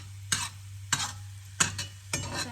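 Chopped green chilies stirred into a hot frying pan, four sharp bursts of sizzling and scraping spaced about half a second apart, close and loud over a steady low hum.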